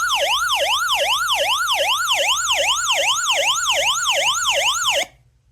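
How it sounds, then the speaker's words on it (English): An emergency hand crank radio with LED flashlight emits a wailing siren that sweeps up and down in quick, even cycles for about five seconds, moderately loud and alone, before cutting off abruptly. "Now, the siren isn't the loudest, but it is enough to make noise."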